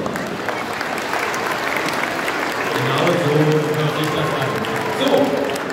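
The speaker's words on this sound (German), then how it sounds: "Der erste Applaus ist bitte für Sie selbst." Guests at a Tafel Magdeburg Christmas party for people in need, held in Magdeburg's exhibition halls, applaud in a sustained, dense wash of clapping that swells slightly midway, with some voices mixed in.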